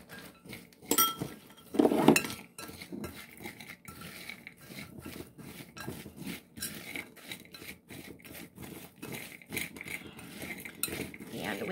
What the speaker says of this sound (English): We're just going to just dump the whole dang thing in there now.